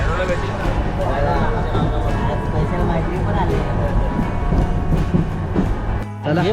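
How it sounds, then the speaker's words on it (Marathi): A train leaving Virar rumbles steadily along the rails with a dense, continuous roar and faint rhythmic clatter, while voices talk over it. "आम्ही आता फायनल आता विरारमधून ट्रेन निघाले"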